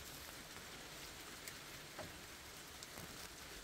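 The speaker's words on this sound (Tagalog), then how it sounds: "biglang umulan na naman" Rain falling steadily in snowy Takayanagi, Niigata, a soft continuous hiss of drops with a few faint patters, quiet and distant, no voices.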